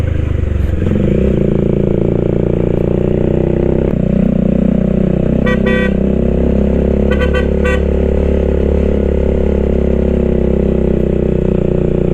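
A vehicle horn honks in two short bursts of repeated beeps over the steady loud drone of an engine climbing a steep mountain road in Ifugao.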